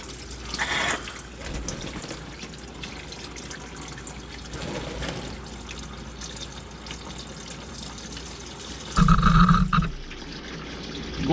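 Motor oil drains from a 2019 Ram 1500 during an oil change and splashes off the cross member in a steady, wet trickling pour. A brief louder burst comes near the end.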